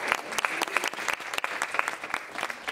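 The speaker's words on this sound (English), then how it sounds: "You can clap for that" An audience at a college talk at Ithaca College claps after a poem is read, steady moderate applause from a modest crowd in a room, lasting the whole few seconds.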